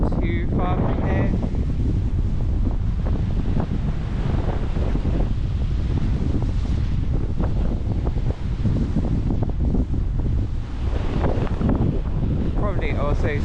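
Strong gusting wind buffets the microphone on an exposed coastal headland walk, a continuous loud roar with surf breaking below, and a person speaks over it at times.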